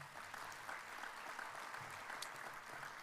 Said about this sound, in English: Walker, let's give them a round of applause.